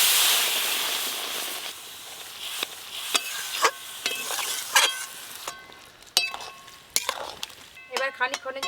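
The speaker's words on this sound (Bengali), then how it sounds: "এবার পরিমাণ মতো জল দেব।" Water poured onto okra and mustard masala in a hot pan, a loud hiss of steam that fades into a quieter sizzle with scattered clinks and utensil taps, close by.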